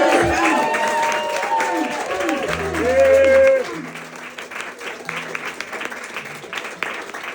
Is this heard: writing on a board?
no